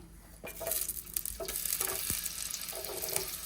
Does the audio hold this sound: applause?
no